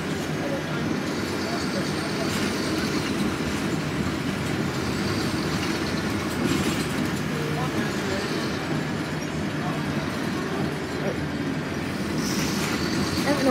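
Heard from on board a bus on a rural ride, the engine and road rumble run steadily underneath, with a few brief rattles and no clear speech.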